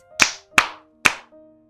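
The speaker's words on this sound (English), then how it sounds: "I want you to clap three times like this" Three crisp, loud hand claps from children ring out one after another in a steady rhythm, each with a short decay, followed by a faint trailing tone.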